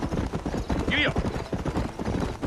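Horse hooves clip-clop rhythmically at a gallop in the Red Dead Redemption video game, moderately close, with a short whinny about a second in and speech mixed over the hoofbeats.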